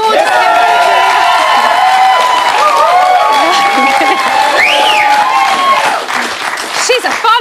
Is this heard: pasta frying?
no